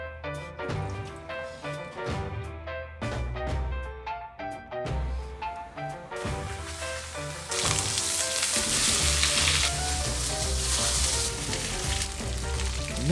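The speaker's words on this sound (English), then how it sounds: "he prepares the beef that goes into the stew, searing the surface" Beef sears in a hot pan in the kitchen of a Japanese yoshoku restaurant: loud, dense sizzling and frying crackle, with clanking kitchen utensils early on, building to a fuller roaring hiss partway through, and no talk.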